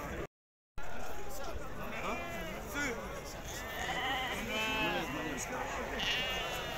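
Sheep bleat repeatedly at the Azrou Tuesday livestock market, several wavering calls near and far rising over a busy crowd of talking people and market chatter.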